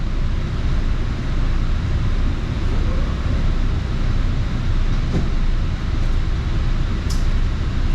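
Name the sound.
airport train running on track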